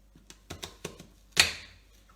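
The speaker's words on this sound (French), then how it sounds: "je vais couper mon oignon" A knife cuts an onion on a cutting board with a few light, evenly spaced taps, followed by one louder crunching chop that rings out briefly.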